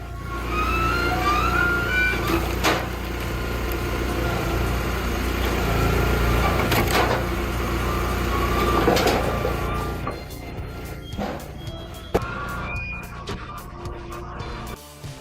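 A Komatsu 931X harvester works through large logs in a forest, its engine droning steadily and loudly with scattered knocks and cracks of wood, then easing to a quieter, intermittent rumble near the end.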